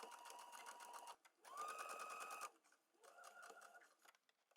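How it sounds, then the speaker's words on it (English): A home sewing machine stitches a straight seam on climbing-trouser fabric in three steady bursts of rapid mechanical whirring, with brief pauses between runs, close and clear. "sew a straight stitch from the top down to the dot"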